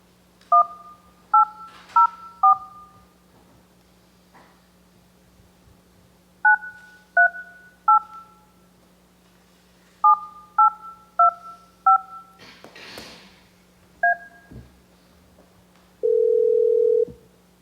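Telephone keypad tones dial out during a historic district review board meeting, paired beeps in quick clusters separated by pauses, then a short steady tone at the end, clear and fairly close with no talk.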